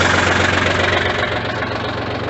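A backhoe's diesel engine idles steadily right after being cranked, a loud, even low rumble with a constant hum running throughout, close by, with no talk.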